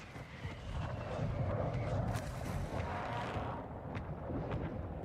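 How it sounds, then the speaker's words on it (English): Distant mortar-strike explosions in the shooter game Warzone 2, heard as a rolling, booming rumble with a few sharper cracks, fairly quiet and muffled, with no voices. "Mortar strike inbound."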